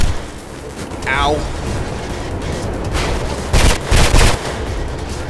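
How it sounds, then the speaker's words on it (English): Gunfire aimed at police in the first-person game Mirror's Edge: a couple of loud, close booming shots near the end over a steady noisy background of game sound, with a brief voice-like squeal earlier. "I shot him in the face."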